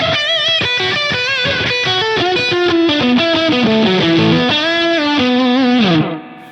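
Distorted electric guitar plays a blues lick in the manner of a left-handed player, with gliding string bends and sustained notes, loud and continuous throughout with no voice, ending abruptly.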